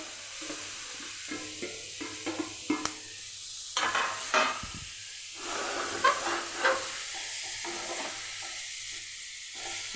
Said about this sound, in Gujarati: તો બીટને આપણે શેકી લેવાનું છે એમાં।